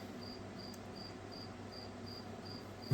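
Crickets chirp in a steady, regular pulse, faint but continuous over a low background hum.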